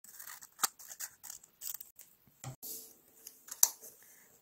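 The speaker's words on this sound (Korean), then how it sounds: "반을 접고 가위로 잘라줍니다." Scissors snipping through folded craft paper for a paper-folding project, a string of crisp, quiet cuts and rustles at an uneven pace, close and alone with no voice.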